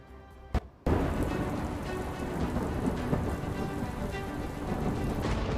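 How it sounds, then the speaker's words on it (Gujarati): Heavy monsoon downpour in Surat, a dense, steady roar of rain pounding surfaces with low rumbling thunder underneath, loud and continuous after a brief quieter opening. "ભરૂચ અને તાપી સુધી વરસાદે રસ્તાઓને નદીમાં ફેરવી નાખ્યા"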